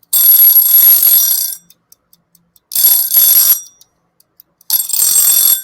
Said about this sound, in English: And I'm going to turn off my buzzer.